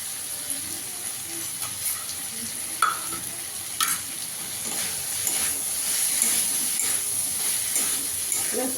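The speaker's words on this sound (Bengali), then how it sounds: "এবার ভেজে রাখা চিংড়ি মাছটা দিয়ে দেবো।" Previously fried prawns go into a curry cooking in a pan, bringing a continuous hissing sizzle with stirring scrapes and a few sharp utensil clinks, close and fairly quiet, with no talking.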